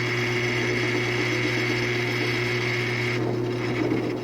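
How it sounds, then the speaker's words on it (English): A drill press motor hums steadily at slow speed at close range, its tone shifting near the end as the bit works into the material, drilling holes for a small workbench. "Just set your drill press at a slow speed and drill in cautiously."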